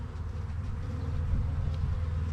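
Honey bees in a hive box while honey frames are added: a dense, low, continuous buzzing hum, close and steady, with no talk.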